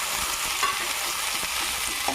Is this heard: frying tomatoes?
yes